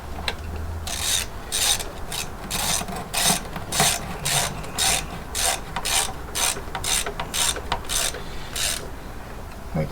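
A ratchet tightens valve cover screws on a 2002 Mitsubishi Eclipse during a valve cover gasket job, making a long series of close, rhythmic clicks over a rough, rasping background, with no talk.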